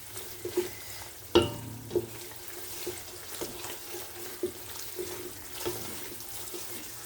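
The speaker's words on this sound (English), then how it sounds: "I'm going to fry it a bit before I'm going to be adding my tomatoes into it." Derica tomato paste fries in a pot for jollof rice, a soft sizzle with scattered spoon scrapes and clinks, one louder knock near the start.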